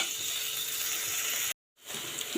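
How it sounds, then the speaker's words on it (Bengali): Whole cumin seeds sizzling in hot oil while tempering a curry, a steady close hiss and crackle that drops out briefly and then resumes. "তো জিরা, আস্ত জিরা ফোড়ন দিয়ে দিলাম।"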